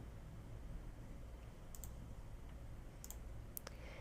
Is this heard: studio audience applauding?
no